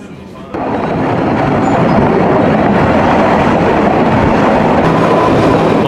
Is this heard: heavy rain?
no